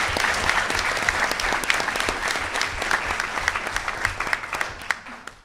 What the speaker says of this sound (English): one more round of applause for Professor Kincaid